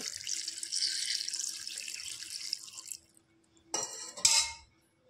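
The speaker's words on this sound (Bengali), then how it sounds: "এবার দিয়ে দেবো পরিমাণ মতো জল।" Water poured into a pressure cooker holding chopped vegetables for a simple gathi kochu (taro) curry: a steady splashing stream for about three seconds, a brief pause, then two shorter, louder pours.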